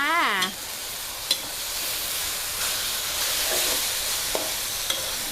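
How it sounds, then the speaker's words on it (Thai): Canned fish, two tins poured in with their liquid, stir-fried with water spinach over high heat in a wok, giving a steady close sizzle and hiss with occasional sharp utensil scrapes and taps. "ผัดไฟแรงเลยจ้า"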